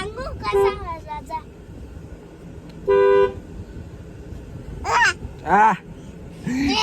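A car horn sounds in short honks heard while seated in a car, with a sustained toot in the middle and a couple of shorter blasts later, over low road rumble and nearby voices.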